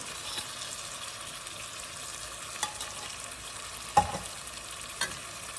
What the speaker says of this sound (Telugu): నూనె కూడా వేగింది కదా, ఇప్పుడు గోంగూర వేసేసి కొద్దిగా అలా కలుపుకున్నాము